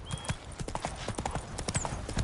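Roach the horse clops along in The Witcher 3, hooves striking in a quick, uneven rhythm of close, distinct footfalls while a man briefly calls out to the horse.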